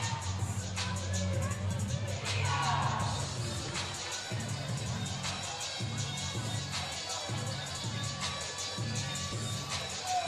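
Crowd at a women's college basketball tournament quarterfinal picked up by a crowd mic in the gym, a faint steady murmur of chatter with occasional thumps and squeaks from the court.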